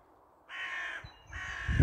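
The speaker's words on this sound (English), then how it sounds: "we've got two crows up here" Two harsh crow caws from a tree, fairly near, with a short gap between them and quiet background otherwise.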